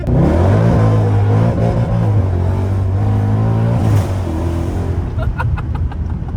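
A wrecked Mercedes C63's engine drones loudly and unevenly, its pitch dragging down slowly in a long, labored downshift before settling into a rougher idle.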